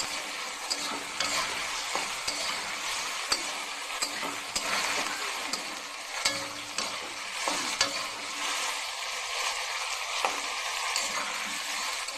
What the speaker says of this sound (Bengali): একটু আলুগুলো ভাজা হয়ে যাক।